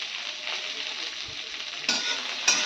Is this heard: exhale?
no